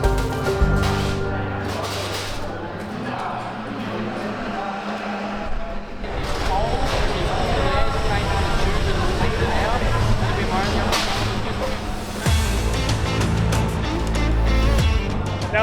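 Race car lapping a track, its engine note rising and falling steadily and loud throughout, with strong harmonic whine after a brief dip near six seconds, mixed with background music or other broadband noise.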